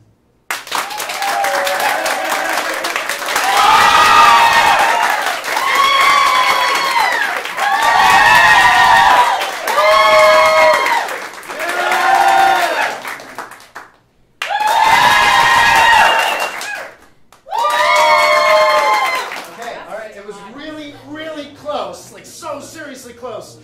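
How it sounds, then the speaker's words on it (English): The crowd at a live improv comedy show in St. Pete cheers, whoops and claps loudly in several long surges separated by brief lulls, then quiets as voices take over near the end. "the person that you like the most, I want you to clap and applaud for, right?"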